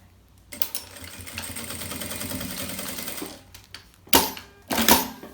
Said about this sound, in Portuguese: Coloco aqui em cima e passo a costura aqui também.